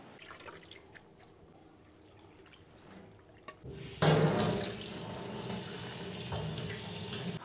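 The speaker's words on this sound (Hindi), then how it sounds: "इस तरीके से धोएंगे, पानी निकालते रहेंगे, टूटी पे चले जाएंगे इस तरीके से" Tap water gushes suddenly into a bowl of potatoes being rinsed, a loud, steady splashing flow after a few quiet seconds of faint handling sounds.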